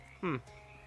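A frog in the Shadows Over Loathing video game gives a single short, throaty croak, a quick belching burst standing out against a quiet background hum.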